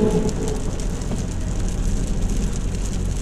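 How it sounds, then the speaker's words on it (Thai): Heavy rain pours steadily without letup during a day-and-night downpour in Pathum Thani, Thailand, a dense, continuous hiss close by with no voices. "ฝนตกทั้งวันทั้งคืนนะครับผม"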